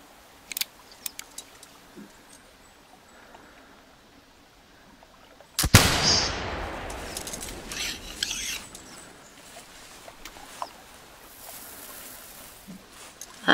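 A single loud rifle shot rings out while hunting a bear in The Hunter Classic, a sharp crack followed by a long rolling decay, with quiet ambient forest noise before and after.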